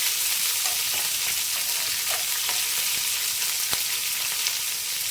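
Chopped onion and curry leaves fry in hot tempering oil for a drumstick-leaf gravy, producing a loud, steady, close-up sizzle with faint occasional stirring clicks.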